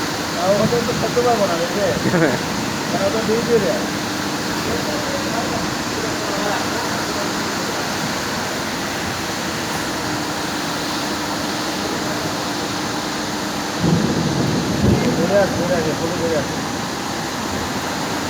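Kalboishakhi (nor'wester) storm wind and rain sweep the area, a steady dense roar of gusts and rainfall that runs throughout and swells louder near the start and again near the end.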